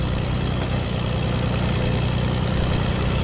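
An airplane engine drones in the video game Fortnite, a loud, constant low rumble that holds steady and unbroken throughout, with no voices.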